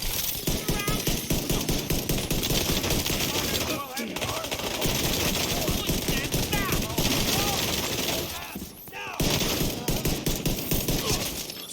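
Enemy gunfire in The Division 2, loud sustained automatic fire from multiple shooters with dense overlapping shots and only brief gaps, talk running underneath.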